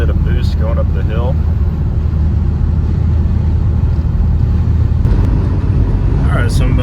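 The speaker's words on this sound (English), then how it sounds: "There we are, building a little bit of boost going up the hill." Engine of a 38-year-old car pulling uphill under turbo boost, a loud steady drone from inside the cabin, with a couple of faint voices.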